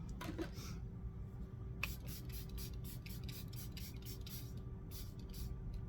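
Charlotte Tilbury setting spray misted from a bottle: a quick run of short, close, airy spray bursts in steady rhythm over a low background hum, with no talk.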